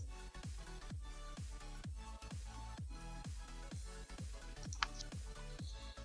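Computer keyboard typing during software setup for an Avolites Titan lighting console, with steady rhythmic key taps close by, evenly spaced and fairly quiet, and a single sharper click midway, no speech.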